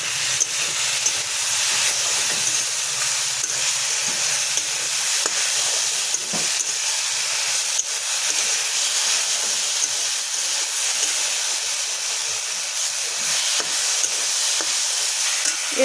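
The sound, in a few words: stirring turmeric powder in a frying pan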